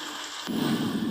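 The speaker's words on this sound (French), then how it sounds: "T'as vu comment il pleut chez nous" Heavy rain falls steadily in Belgium as a continuous, dense hiss that swells louder partway through the short stretch, with no voices.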